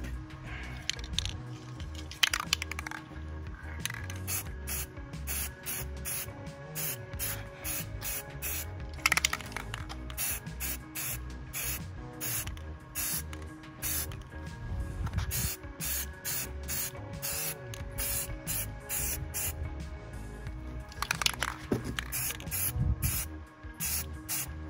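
Aerosol spray paint hissing onto the left front wheel of a 2007 Ford Ranger Sport outdoors, repeated short sprays and longer steady bursts over faint background noise, with no talking.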